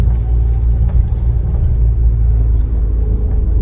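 A Mitsubishi car engine pulling along a challenging, uphill road, a loud steady low rumble with gentle throttle rather than hard revving, sustained throughout with no talk.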